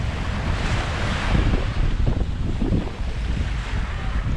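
Strong wind buffets the microphone on a Grand Cayman beach while rough, overcast ocean surf washes in steadily, a loud, continuous roar with no talking.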